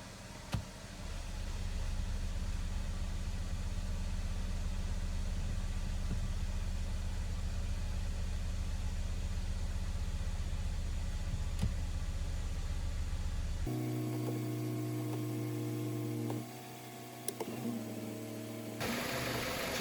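A Chrysler 200 engine idles steadily with a low, constant hum and broadband hiss, then the tone shifts to a quieter, more tonal drone near the end, with no talking.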